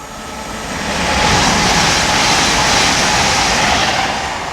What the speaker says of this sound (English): the next train to pass by is going to be another Great Western Railway IET